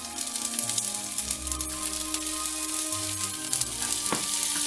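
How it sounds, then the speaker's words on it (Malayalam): Urad dal and mustard seeds dropped into hot oil for cabbage thoran, giving a steady crackling sizzle with scattered pops, close and continuous, with a faint musical tone in the background. "എടുത്ത് വെച്ചിരിക്കുന്ന ഉഴുന്നുപരിപ്പും കടുകും ഇട്ടുക."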